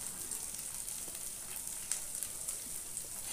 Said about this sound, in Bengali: পেঁয়াজটা কিন্তু খুব বেশি ভাজবো না, হালকা একটু লালচে কালার আসবে ততক্ষণ অবধি আমাকে ভাজতে হবে পেঁয়াজগুলো